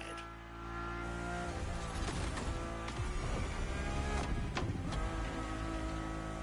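A Ferrari engine in the racing video game The Crew Motorfest, heard from inside the car, roars loud and steady throughout with a few sharp shifts in pitch, no voices.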